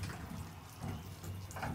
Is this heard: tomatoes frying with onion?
no